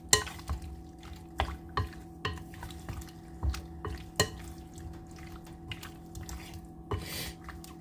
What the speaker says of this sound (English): Make sure we get it all covered here with the egg mixture.